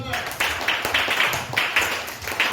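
Church congregation clapping to acclaim the Lord, steady rhythmic applause from many hands in a loose beat, fairly loud and close, with a voice speaking over it.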